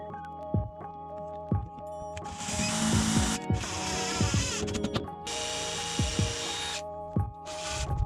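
A drill driving a couple of screws while installing an RV bathroom shower step, in several sustained whirring bursts with short pauses and a few knocks between them, loud and close.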